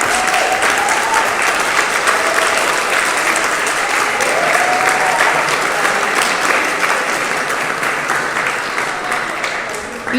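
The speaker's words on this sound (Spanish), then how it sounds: "Entonces vamos a dar otro aplauso a nuestro Señor." A church congregation claps loudly and steadily, the dense applause holding at close range for the whole stretch before easing slightly near the end, with some voices mixed in underneath.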